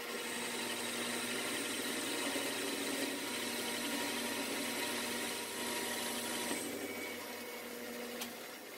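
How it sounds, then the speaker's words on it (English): A small lathe takes an 80 thou roughing pass in steel, producing a quiet, steady machine hum with a whining tonal edge that runs unbroken, then eases slightly near the end. "Now that was an 80 thou pass, which is frankly about the most that I'd ever want to do on this little lathe"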